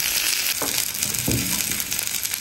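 Onion and garlic sprouts hit hot oil on a small iron griddle, giving a constant crackling sizzle broken by a couple of brief scraping stirs, close and fairly loud.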